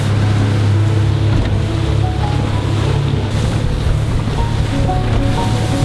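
A tiny speedboat on choppy sea off Duncansby in the Pentland Firth, its motor humming steadily and loud beneath constant rushing wind and wave noise.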